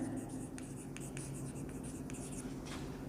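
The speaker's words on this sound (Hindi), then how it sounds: "अभी देखना मैं लिखता हूँ" Chalk or marker scratches across a board in short strokes during a classroom lesson, faint and close, with a low background murmur.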